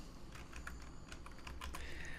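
Rapid clicking of a computer keyboard while a web page section is built in a WordPress editor, steady irregular keystrokes close up with no talking.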